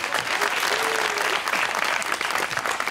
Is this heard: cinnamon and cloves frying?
no